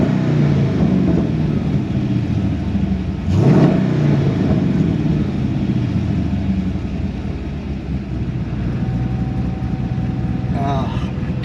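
A Corvette Split Window resto mod's engine fills the clip with a steady, loud rumble, and a quick rev swells near the middle before settling back to idle.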